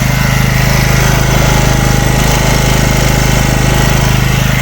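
A portable petrol generator runs close up while warming up, its small engine putting out a loud, steady, rapid-firing drone that holds a constant pace throughout, with no talking.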